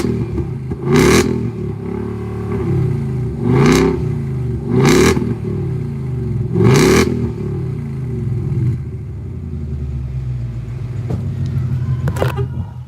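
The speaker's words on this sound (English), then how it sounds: "I'm gonna give it a couple of revs for you." A Shelby car's engine gives four sharp, loud revs in a row, each a quick surge and fall over a rumbling idle, then settles back to a steady idle with one last brief blip.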